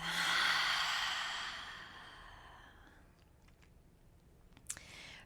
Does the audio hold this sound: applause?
no